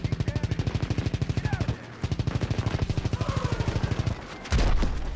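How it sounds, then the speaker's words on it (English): Rapid automatic gunfire in Call of Duty WW2, a steady loud stream of evenly spaced shots that pauses briefly and resumes, ending with a heavier burst and boom. "Oh, who's shooting at me?"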